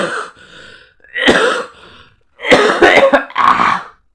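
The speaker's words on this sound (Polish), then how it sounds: "Ja tak kaszle, kaszle, kaszle." Several harsh coughs and throat-clearing bursts come in separate clusters, close and loud, with short quiet gaps between them.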